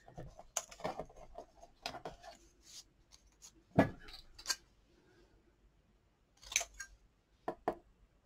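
Scissors snip patterned designer paper for handmade cards. Short, sharp cuts come close by in irregular bursts, separated by quiet pauses and a few soft rustles of paper.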